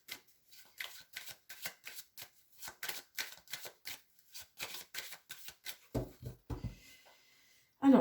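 Tarot cards shuffled and handled at close range, a rapid series of crisp riffling bursts in a steady rhythm, followed by a couple of heavier handling thumps, with no talk over it.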